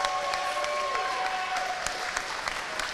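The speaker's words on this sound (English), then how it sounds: "I would just like one last round of applause for our class of 2024" Crowd applause rings out for graduating senior swimmers at a high school swim meet, steady clapping sustained throughout in a reverberant pool hall.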